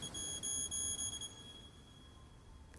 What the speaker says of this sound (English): There is a beeping that comes from Ezra.